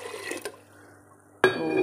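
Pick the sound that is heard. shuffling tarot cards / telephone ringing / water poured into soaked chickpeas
water poured into soaked chickpeas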